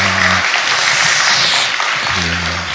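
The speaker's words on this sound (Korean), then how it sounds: "박수 한 번 더 해주시고" A church congregation at a Korean Baptist Sunday service applauds in a steady, loud wash of clapping, while a voice speaks briefly at the start and again near the end.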